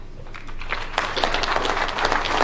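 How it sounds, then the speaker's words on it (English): An audience applauds at a public event in Kenya as university officials, including a vice chancellor, stand to be recognised; steady mid-level clapping runs throughout with some scattered sharper claps. "can you stand and we applaud you?"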